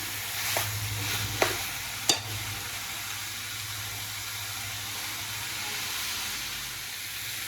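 Home-made pepper chicken cooking in a pan, a steady soft sizzle and hiss with a few sharp clinks of the stirring spoon early on.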